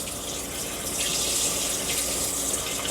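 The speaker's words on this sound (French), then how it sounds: "Ici, vous avez l'évier. C'est bon, j'ai l'eau chaude normalement." Hot water runs from the sink tap in a 2025 Pilote P720 FC camper van, a steady close splashing gush throughout with no talk.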